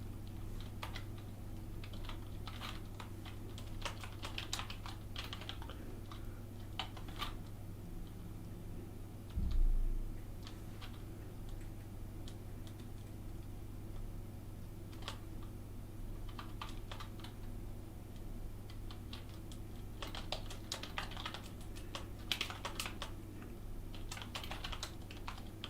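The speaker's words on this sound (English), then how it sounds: "I'll just type and explain soon." Steady typing of code on a computer keyboard: a quiet, continuous patter of key clicks in uneven bursts with a brief thump partway through, close but faint.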